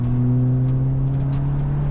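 A BMW 330e hybrid with a back box delete exhaust holds a loud, steady low engine drone close by, with strong sustained tones and no talk over it.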